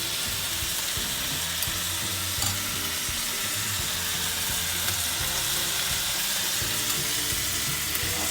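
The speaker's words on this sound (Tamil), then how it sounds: "அதில் எண்ணெய் விட்டுக்கேன்." Oil sizzles loudly and steadily in a pan while Thai-style grilled chicken is prepared, a constant close frying hiss with faint stirring and no voices.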